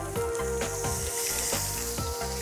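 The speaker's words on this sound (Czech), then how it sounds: "vyzkouším, zda máme tu pánvičku už rozpálenou" An oiled tuna steak sizzles loudly and steadily in a hot frying pan, a close, continuous crackling hiss with small scraping touches.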